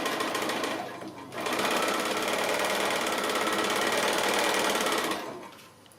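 A sewing machine stitches a quilt block, running in a steady continuous whir for about four seconds after a brief start and pause, close and alone.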